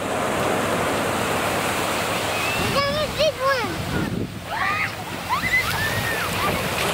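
Steady wash of surf and wind rushing across the microphone at Newport Beach, with children's and adults' voices calling out over the waves.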